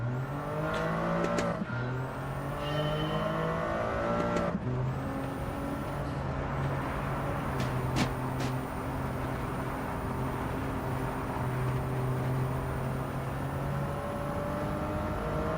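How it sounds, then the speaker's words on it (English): A turbocharged race car engine in a racing game holds a steady high drone with a couple of quick rising revs near the start, then runs on evenly, no voices. "Let the turbo do its thing."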